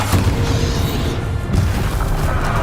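Bombarda blasting spell going off in the video game Hogwarts Legacy: a loud, dense explosive boom with heavy low rumble and crashing debris, sustained across the moment with no talk over it.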